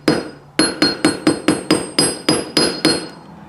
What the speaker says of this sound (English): I'm going to take this over to my little anvil and give it a couple whacks with the ball peen hammer